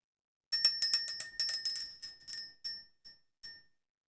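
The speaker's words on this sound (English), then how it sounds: "ring the bell, clear the energy" A small bell is struck in a quick run of bright, ringing chimes that slow and thin out into a few spaced final strikes, clear and close with no talk.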